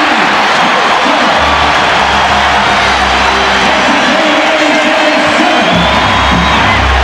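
A basketball arena crowd at a 1995 NBA playoff game between the Cleveland Cavaliers and New York Knicks roars and cheers steadily and loudly, with whoops rising from the stands throughout.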